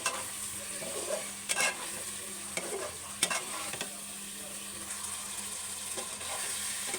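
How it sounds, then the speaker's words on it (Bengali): Fish heads fry in oily spice paste with a steady sizzle, broken by several scraping stirs of a spatula against the pan. The sound is close, fairly loud and continuous, and no one speaks. "এখন আমি মাছের মাথাগুলো দিয়ে দিব। মাছের মাথাগুলো দিয়ে বেশ কিছুক্ষণ কষাবো।"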